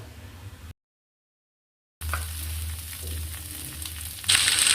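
Chana dal and turmeric powder stirred in hot oil crackle with a steady sizzle. A gap of silence comes first, then the frying resumes and grows louder toward the end.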